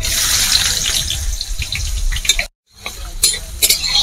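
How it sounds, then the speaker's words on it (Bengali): Sliced onions, about 300 grams, fry in a pan for coconut chicken curry, giving a steady bright sizzle with scraping stirs, a brief silent break, then more sizzling and spoon scrapes close by. "পেঁয়াজটাকেও এবার এর মধ্যে দিয়ে দেব।"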